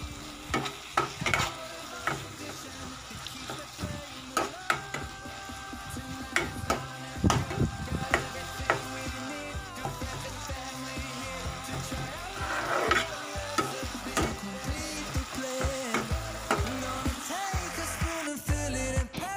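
Potatoes fry in a pan over low gas flame, a continuous sizzle with frequent scraping and clattering as a spatula keeps stirring them, close and fairly loud throughout.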